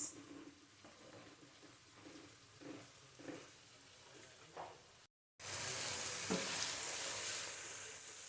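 Spices fry in a pan for a koi fish curry with flat beans, potatoes and tomato: a soft sizzle with light clinks, then, after a brief cut, a loud, dense burst of sizzling as more food hits the hot oil.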